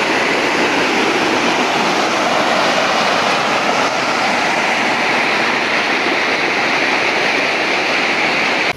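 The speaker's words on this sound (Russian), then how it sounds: "а здесь водопад" A jungle waterfall beside railway tracks roars steadily and loudly throughout, a dense, continuous rush of falling water with no talk over it.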